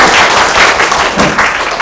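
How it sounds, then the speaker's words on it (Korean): An audience at an indoor high-school maths information session bursts into loud, dense applause, a continuous close wash of many hands clapping together with no single beats standing out. "좀 크게 박수 한번 쳐주세요"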